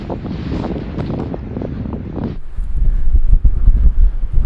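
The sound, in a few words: strong wind on a hilltop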